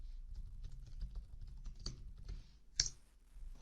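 Quiet, rapid keystrokes tap on a computer keyboard as a password is entered, a soft irregular patter of clicks ending in one sharper key press near the end.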